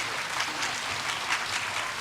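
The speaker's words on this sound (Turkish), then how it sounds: "Alkışlarla yolcu edelim hocalarımız." Steady, dense applause from an audience seeing off teachers at a 2023 academy graduation ceremony, filling the whole two seconds with even, close clapping.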